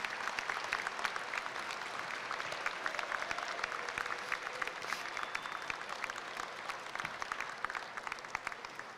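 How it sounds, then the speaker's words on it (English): Graduating students at the UNC School of Media and Journalism 2016 spring commencement applauding their parents: a large crowd of crisp, dense clapping sustained for about nine seconds at moderate distance, with scattered distinct claps standing out and no talking. "So students, you gotta get up and applaud, give your applause to your parents."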